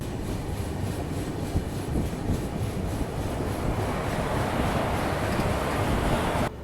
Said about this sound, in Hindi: फिलहाल अभी हमारी ट्रेन इरोड जंक्शन पहुंच रही है